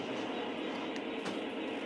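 An O gauge model train runs around a layout track with a steady, close rolling rumble and faint rhythmic clicks from the wheels, heard alone without talk.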